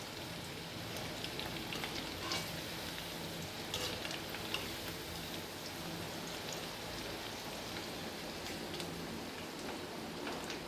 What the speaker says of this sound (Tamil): ஆயில் கொஞ்சம் நிறைய ஊற்றிட்டு நல்லா வேகும்போது நல்லா தலசரமாக இருக்கும்.